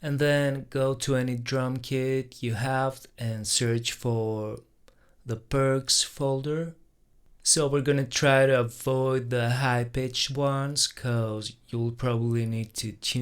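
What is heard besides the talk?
No everyday noises stand out.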